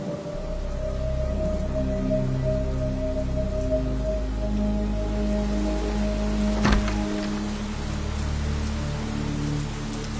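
Rain falls steadily in a Bengali ghost-story cartoon, a continuous hiss of downpour with a low hum underneath and no voices.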